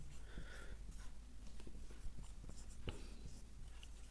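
Chalk or marker writing on a classroom board during a third-grade English lesson, a close run of scratchy strokes and taps with no talking.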